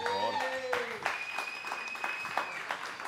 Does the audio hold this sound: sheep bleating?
no